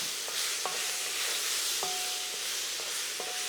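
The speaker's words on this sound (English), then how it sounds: "I'm only going to stir that around for about 30 seconds to get that pineapple kind of hot." Pineapple pieces stirred in a hot pan while cooking sweet and sour pork, giving a steady soft sizzle broken by a few scraping utensil strokes, close and fairly quiet with no talking.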